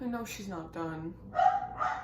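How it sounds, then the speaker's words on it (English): A person talks up close while a dog barks a couple of times nearby, the short barks cutting in toward the end. "And that's my dog again."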